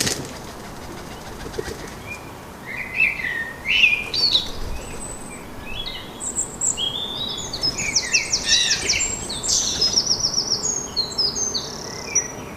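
Garden birds perched along a fence chirp and tweet in bursts of bright, high calls, a pigeon among them, growing busier and more layered midway through over a soft outdoor background with faint wing flutters.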